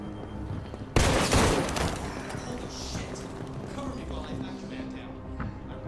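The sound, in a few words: gunshot in video game Detroit: Become Human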